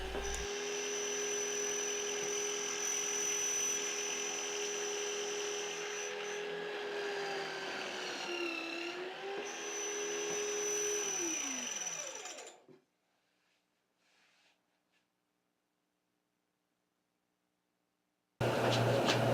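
A drill running in a DIY pocket hole machine bores a pocket hole in wood, a loud steady whine that dips in pitch under load, then spins down and stops, followed by near silence and a sudden loud noise at the end.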